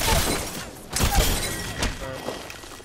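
A brief sharp shattering crack of an enemy's energy shield breaking in the Apex Legends battle-royale video game, set in a busy firefight with thuds and talk around it.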